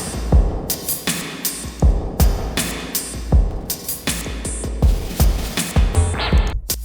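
Booming drum loop drenched in Arturia reverb plugin, deep kicks and crisp hits repeating in a steady groove, each strike trailing a lingering wash of ambience.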